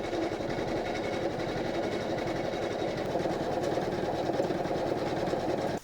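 An embroidery machine stitches out the number 0, a steady, fast mechanical needle rhythm running loud and continuous near the microphone throughout with no talking.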